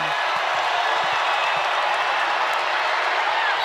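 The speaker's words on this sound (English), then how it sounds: "this crowd making some noise" A women's college basketball arena crowd roars without pause in the third quarter as the home side goes on a run, a dense, loud wall of cheering and clapping with no clear gaps.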